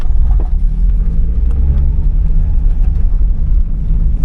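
A 1999 Mazda Miata pulls away on a test drive, its engine a loud, steady low rumble heard from inside the car with no talk over it.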